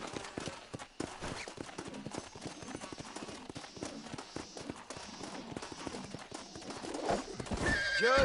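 A wild horse in Red Dead Redemption 2 neighs and whinnies amid the thud of hooves clip-clopping nearby, with a louder, rising whinny near the end and a voice murmuring faintly underneath.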